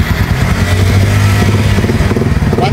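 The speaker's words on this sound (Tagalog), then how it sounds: "So start, paandar natin motor." A motorcycle with a burned wiring harness from a faulty full-wave charging conversion runs close by, its engine a loud, steady, rough drone with slight revving fluctuations.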